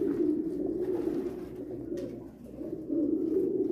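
Pigeons coo steadily and close by in a pigeon-breeding loft, with birds sitting on eggs and squabs; the low, throaty cooing runs continuously, several birds overlapping, with a brief lull midway before swelling again.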